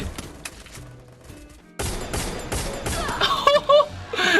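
Woodpecker gun firing in the Free Fire video game, a burst of sharp shots over game music and noise, getting louder and denser in the second half with crashing impacts near the end.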